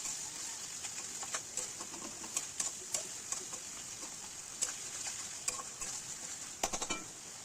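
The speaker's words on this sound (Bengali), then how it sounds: "এবার যতক্ষণ না সম্পূর্ণ তেল ছেড়ে আসে ততক্ষণ ঠিক কষিয়ে নেব।" Spice paste for Bengali chicken kosa being stir-fried in oil, a faint steady sizzle under scattered light scrapes and taps of a spatula against the pan, with no talking.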